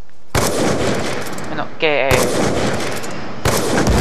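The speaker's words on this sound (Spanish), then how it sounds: "Disparo efectuado" Loud, close bursts of automatic gunfire from the video game Call of Duty: Black Ops 2, in two sustained volleys split by a short break where someone speaks, then a third burst starting near the end.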